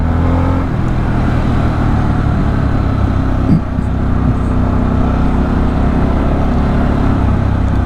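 A 2024 Harley Davidson Sportster S motorcycle being ridden, a steady loud engine drone with wind rush heard from the rider's position, continuous and unbroken with no talk.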